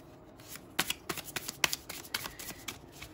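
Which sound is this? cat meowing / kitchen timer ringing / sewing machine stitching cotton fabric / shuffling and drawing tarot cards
shuffling and drawing tarot cards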